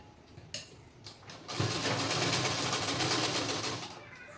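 A sewing machine stitches tucks into a sheer, transparent blouse fabric: a couple of sharp clicks, then a steady, close mechanical whirring run for about two and a half seconds before it slows and stops.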